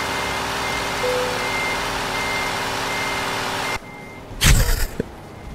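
Reversing alarm beeps from a heavy truck in the Euro Truck Simulator driving game, a steady tone heard over continuous engine and game noise that cuts out near the end before a brief louder burst of sound.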